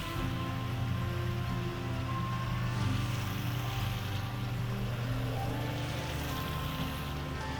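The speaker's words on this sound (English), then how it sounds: "I'm just gonna go ahead and fill this wash station up." Water pours steadily into a produce wash station in a home garden, a continuous rushing, splashing wash of sound with no break or talk.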